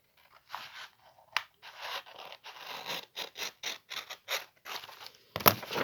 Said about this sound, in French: Et tout simplement, je viens couper.